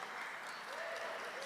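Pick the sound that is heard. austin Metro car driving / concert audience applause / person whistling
concert audience applause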